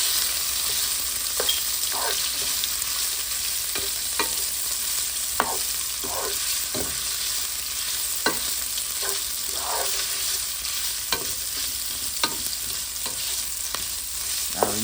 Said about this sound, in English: Okay, so now we're gonna go ahead and add our sausage. Give a little brownie sausage.